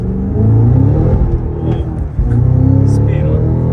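Cadillac CT5-V Blackwing with a six-speed manual gearbox pulling away in first gear, its engine note loud and close, rising steadily with a brief dip midway, while a person talks over it.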